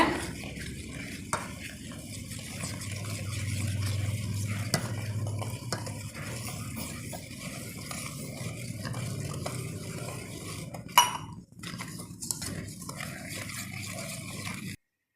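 A utensil stirs rice flour and coconut milk into rose cookie batter in a bowl, a soft continuous scraping and swishing with a few light clinks, quiet and close throughout.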